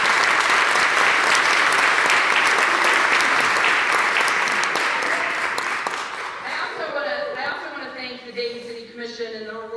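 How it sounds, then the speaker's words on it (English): Loud sustained applause from the audience at a Dayton community meeting, many hands clapping steadily for several seconds before fading out as a voice begins speaking over the tail end. "Would you please applaud this group"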